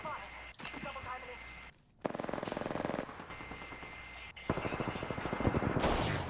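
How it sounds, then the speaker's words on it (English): Enemy gunfire during an Apex Legends match, sustained rapid rattling bursts at moderate distance running through most of the stretch, with a brief lull and layered game noise. "The enemies are shooting."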